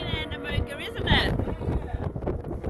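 A strong gale-force wind buffets the microphone with rough, gusty roaring in the mining area on the edge of Andamooka, while voices talk through it.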